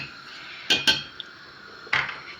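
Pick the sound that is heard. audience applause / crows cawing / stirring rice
stirring rice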